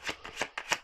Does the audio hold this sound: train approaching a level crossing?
no